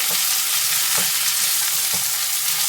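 Cashews and raisins fry together in hot oil for butter chicken, producing a loud, continuous sizzle up close, with a soft stirring scrape roughly once a second.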